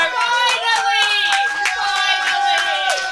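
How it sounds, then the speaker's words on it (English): A studio audience on a talk show claps and cheers in a steady round of applause, with sharp hand claps under whooping, sustained voices throughout. "The round of applause"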